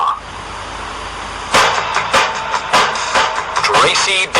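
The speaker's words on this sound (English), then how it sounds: "Follow that car." A car pulls away, with abrupt revving bursts and passing engine noise, loud and close after a quieter opening, in a staged radio-drama style scene.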